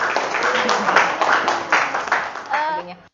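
A crowd claps and applauds for the choreographer of a massed dance performance. The applause is dense and sustained, and a voice speaks over it near the end.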